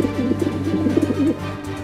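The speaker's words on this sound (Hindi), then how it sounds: "चिंटू के घर में से कबूतर की आवाज आ रही है" Pigeon cooing close by in a cartoon, a soft throaty warble repeating in gentle rolling phrases over a steady low hum.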